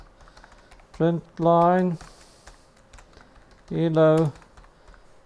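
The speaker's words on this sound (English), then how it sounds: "I'm typing wrong" A computer keyboard clicks in faint, scattered keystrokes throughout, partly beneath someone speaking code-related words in two short bursts.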